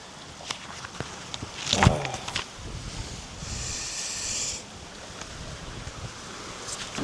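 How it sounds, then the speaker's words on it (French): Wind gusts beside a lake, blustering against the microphone with rushing surges and a longer sustained whoosh midway, along with a few rustles and soft knocks. "Il y a un vent, oh là là."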